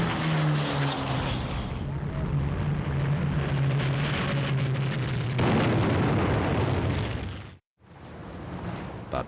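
Fairey Swordfish torpedo biplanes drone loudly in heavy rain, a continuous roar of propeller engines swelling over a rumbling wash, broken by a sudden cut before the noise resumes; a voice talks over part of it.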